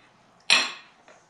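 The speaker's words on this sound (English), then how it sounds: "Let me cut the sausage in a smaller piece." A single sharp clink of a knife or fork striking a plate while a sausage is cut into smaller pieces, followed by a fainter tap just afterward in a quiet room.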